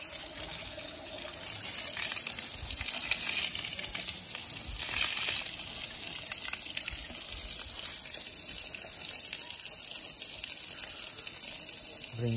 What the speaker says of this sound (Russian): Вот это что за труба? Интересно, вода проточная